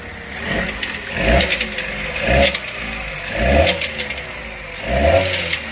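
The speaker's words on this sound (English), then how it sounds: "In a couple of seconds, it will start what I would call hunting. And if you give it a rev" A car engine hunts at idle, surging up and down in four or five rhythmic swells about a second apart, close and loud, with no talking.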